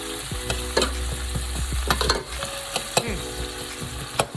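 Onions and peppers sizzling in a pan, a close, steady crackle punctuated by a few sharp clacks and scrapes as a utensil stirs them, with nobody speaking.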